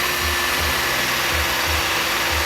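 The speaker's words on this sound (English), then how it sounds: "if you just let the drill bit do the work, it'll center itself really nice" Electric drill boring into the aluminum muffler of a Honda lawn mower, a steady loud whirring grind with a pulsing low rumble throughout, close up and with no talking.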